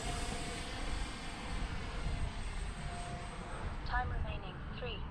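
A FlyFans K-8 Red Falcon RC jet model airplane flies at half throttle, its steady whine and airflow rush droning continuously at moderate distance with a few brief higher tonal chirps near the end.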